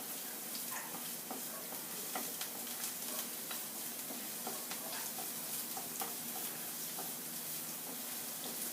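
Garlic frying in a pan for a curry, a steady soft sizzle with faint clicks and stirring, close and continuous with no voices.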